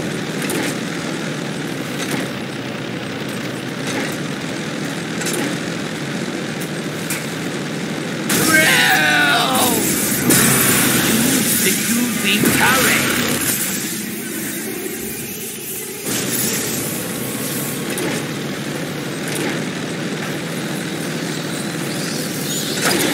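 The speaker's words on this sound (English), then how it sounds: "This junker can only power the turret or the engine, not both." Junker vehicle engine from the Gears of War game running steadily as a continuous droning rumble, with louder mechanical and combat-like bursts layered over it in the middle section.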